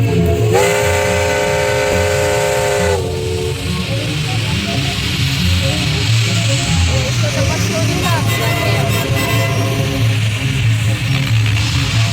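A vintage steam locomotive at a parade of old engines lets out one long, steady whistle blast near the start, over continuous loud rumbling of engine and rail noise.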